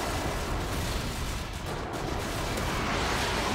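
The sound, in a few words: friendly airstrike explosions in a video game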